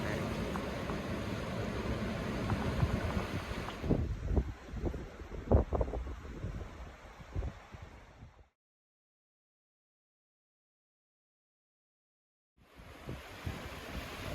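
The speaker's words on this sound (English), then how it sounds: "just sitting here watching the waves" Ocean waves wash in under heavy wind buffeting on the microphone, with a few sharp knocks, then several seconds of silence before the surf and wind return.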